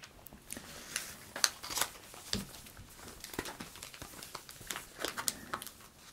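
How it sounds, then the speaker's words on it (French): Pokémon booster pack wrappers crinkle and tear in quick, close, irregular bursts as the foil packs are opened one after another, crisp and alone without talk. "nous allons ouvrir les boosters 2 par 2"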